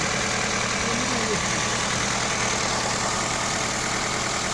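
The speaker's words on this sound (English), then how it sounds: "Hear the engine running." An Opel Astra F engine, revived after sitting, idles steadily up close with an even, continuous mechanical hum and a faint ticking under it, running smoothly without pauses.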